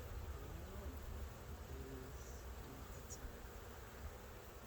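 Honeybees buzz faintly and steadily around an open beehive during an inspection, a soft continuous drone with a few brief sharper passes.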